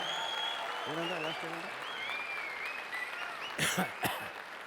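An audience at a stand-up comedy show claps in a steady, sustained round of applause, with a voice talking over it and a few louder claps near the end.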